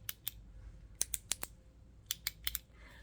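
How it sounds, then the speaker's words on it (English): Quiet, crisp clicks in small irregular clusters sit close to the ear over a soft hiss, like a clicker or fingertips used during an ASMR cranial nerve hearing test. "Do you hear the clicking?"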